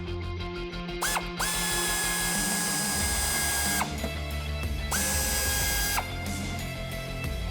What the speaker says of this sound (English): So we're gonna go ahead and remove that hanger now